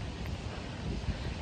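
Steady wind blowing outdoors along a footpath, a continuous broadband rush with low gusty rumble against the microphone, no voices.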